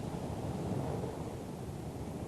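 Strong wind and rising surf on an Atlantic coast as a hurricane nears Florida. A steady, dense roar of wind and crashing water runs unbroken and fairly faint throughout, with no voices.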